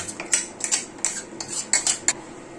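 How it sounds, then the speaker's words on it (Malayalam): Aviyal, a Kerala mixed-vegetable dish with coconut, being stirred in a pot. A ladle clinks and scrapes against the metal in quick, uneven strikes, close and clear, with no voices. "ഇവിടെ നല്ലപോലെ ഇളക്കി ഒന്ന് കൊടുത്തിട്ടുണ്ട്"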